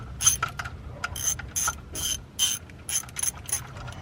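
A ratchet clicks rapidly in repeated bursts while a bolt is loosened during idler pulley and tensioner replacement on a 1999–2004 Mustang GT, the mechanical ratcheting close and fairly loud with no talk.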